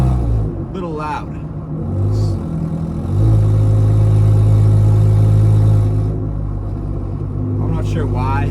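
A car's broken exhaust rumbles loudly and raggedly, swelling as the engine revs, with brief bursts of talking at the start and end.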